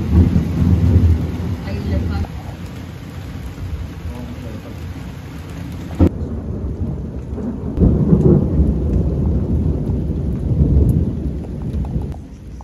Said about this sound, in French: Les orages, le tonnerre et la pluie, on n'a vraiment pas beaucoup dormi.